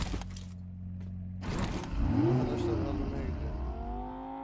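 Car engine revving in a multiplayer shooter game, a rising and falling whine that climbs in pitch and fades, heard under and after brief voices with a few clicks before it.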